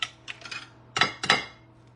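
Eggs being cracked for cheesecake batter, with a few quick, light taps and two sharper cracking knocks close by in a quiet kitchen, with no talking.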